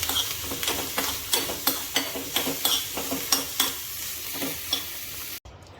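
Leftover kadhi being refried in a pan: a spatula scrapes and taps in a steady rhythm about twice a second over a constant sizzle, close and moderately loud, and it cuts off abruptly near the end.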